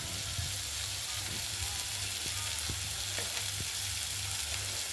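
Ground masala spice mix, holding coriander, cumin, clove, cardamom, Sichuan pepper and dried chilli, goes into a frying pan of jackfruit curry, bringing a steady close sizzle with soft scraping taps.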